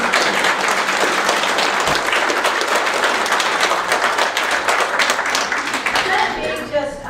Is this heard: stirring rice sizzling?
no